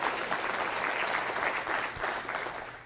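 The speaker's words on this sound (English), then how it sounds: "You can clap for that one." A church congregation claps through a sermon, a broad wash of many hands at moderate volume that swells and ebbs slightly before tapering off.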